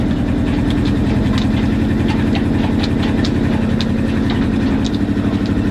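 A boat engine idles steadily in cold water, not warming up, a dense low rumble with a fast, even pulse and faint ticking on top, loud and close throughout.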